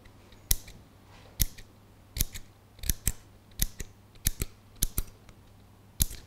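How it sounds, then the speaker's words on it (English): Scissors snip through paper to cut leaf strips for a craft paper palm tree, about thirteen crisp, close cuts in a steady rhythm, some in quick pairs, with no talking. "I just get scissors,"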